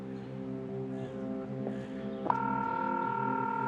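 A telephone is dialled in a quiet room: faint tones and clicks, then a steady ringing tone that carries on alone to the end.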